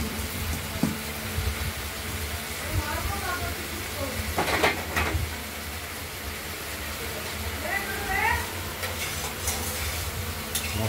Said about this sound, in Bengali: মশলাটা কষা হয়ে যাচ্ছে যদিও, হয়ে আসছে, ধীরে ধীরে হচ্ছে